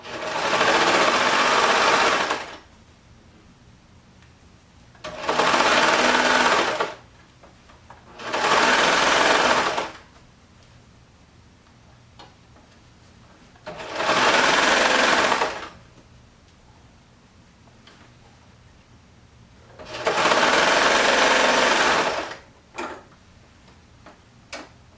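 A sewing machine stitches a sweater sleeve from the inside around a small arm opening, running in five steady bursts of a few seconds each, separated by short pauses.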